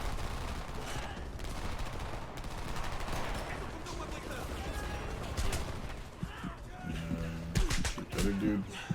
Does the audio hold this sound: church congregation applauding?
no